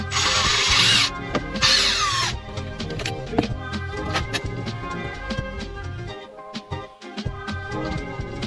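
A power drill drives screws while a 12V lithium RV battery is installed: two loud whirring bursts at the start, then shorter ratchety clicking and mechanical noises close by.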